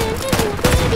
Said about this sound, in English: I shot him!